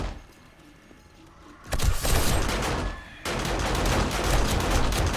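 Gunfire in 7 Days to Die opens up after a quiet start, two loud bursts of rapid automatic shots split by a short pause, close and dense, with no talk.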